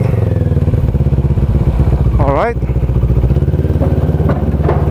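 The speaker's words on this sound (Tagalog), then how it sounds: "Sasakay natin ng barko ang ating motor." Motorcycle engine running near Lucena Port as the bike is ridden onto a ship, a loud close idle that revs briefly with a rising whine, while a voice speaks briefly.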